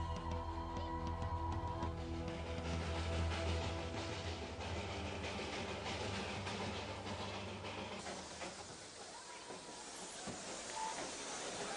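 A train rumbles steadily along the rails at over 2,000 metres altitude, with a continuous low roar and hiss, some tonal squeal layered in, no voices.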